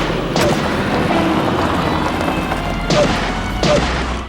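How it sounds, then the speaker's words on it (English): Several sharp, booming gunshots from a film soundtrack, spaced unevenly over steady background noise, loud and close. "Why do the gunshots sound so weird?"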